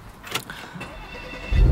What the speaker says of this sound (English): I'll turn the engine on because it might make a little more sense.